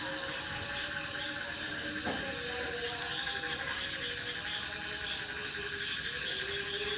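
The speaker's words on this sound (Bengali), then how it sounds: "বাইরে খালি ব্যাং ডাকছে খালি ব্যাঙের শব্দ ঝিঝি পোকা কত রকমের শব্দ শোনো" Frogs croak and crickets chirp steadily outside at night, a dense continuous chorus with a high insect trill layered over lower croaks and no voices.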